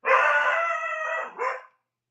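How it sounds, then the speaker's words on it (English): A dog lets out one long, loud, drawn-out howling bark followed by a shorter yelp, close and alone, then silence. "and my dog is going crazy."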